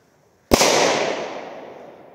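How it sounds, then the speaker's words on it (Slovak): A mini-bomb firecracker goes off once with a sharp, loud, close crack after brief near-silence, followed by a long rumbling echo that slowly fades out, with no voices. "No, to je taký ostrejší výbuch."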